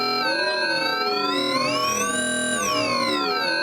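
A fractal bloom wavetable oscillator plays alone as one sustained, bright, shimmering synth tone whose harmonics slowly rise and fall, at a steady level throughout.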